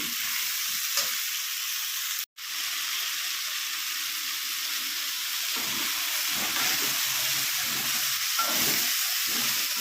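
Tomato curry frying in oil, a steady close hiss of sizzling that runs throughout, briefly cutting out once, with soft stirring bumps later on.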